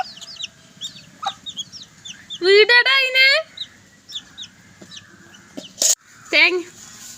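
Chickens cluck and cackle nearby in short bursts on a village evening in Kerala, with one loud drawn-out squawk midway and softer clucks scattered around it.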